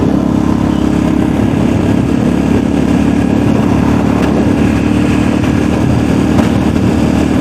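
Single-cylinder engine of a Yamaha XT660X motorcycle running, a steady, loud low drone heard throughout with no talk.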